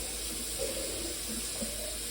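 Water running from a tap into a student's reusable water bottle, a steady broadband rush with faint gurgling shifts as the bottle fills, close and continuous with no talk.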